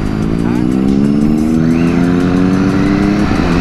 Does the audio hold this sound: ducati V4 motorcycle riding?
yes